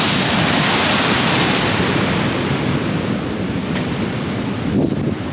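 Rough ocean surf and strong wind on the Irish coast make a loud, continuous broadband roar with gusty buffeting across the microphone that eases slightly and then swells again near the end.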